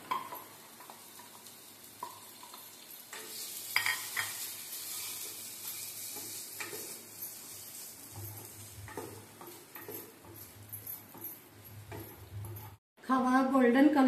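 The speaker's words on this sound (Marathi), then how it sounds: "तुपामध्ये खवा भाजून घेऊयात" Khoa roasting in hot ghee in a kadhai while being stirred, a low steady sizzle with scattered scraping stirs, a voice speaking over it, and a brief break before a louder burst of sizzling at the end.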